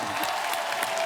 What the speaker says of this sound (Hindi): शान साहब के लिए जोरदार तालियां हो।